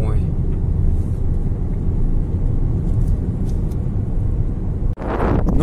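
A car travels a rural road near Pavlodar, Kazakhstan, with a continuous loud rumble of engine and road noise and wind buffeting the microphone. A brief sharp thump comes near the end, and a person talks throughout.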